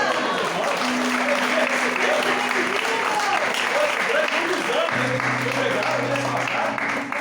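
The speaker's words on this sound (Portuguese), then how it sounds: "Vamos aplaudir o Senhor." A church congregation applauding together, dense sustained clapping across the whole stretch, with voices and sustained tones mixed in underneath.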